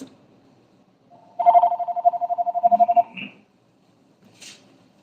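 A phone rings with a spam wireless call, a loud close burst of rapid trilling pulses lasting about two seconds, followed by a short beep and quiet.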